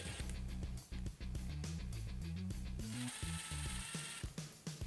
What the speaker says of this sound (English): I'm going to take the two screws that hold the neck pickup in and take those out.